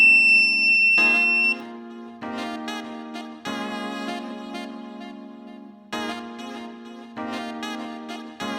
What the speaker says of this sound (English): if you block all the light going to the photoresistor, then the buzzer goes on